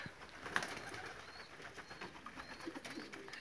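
Pigeons, including young birds from 2019, coo softly at a loft, low faint calls repeating over a quiet background.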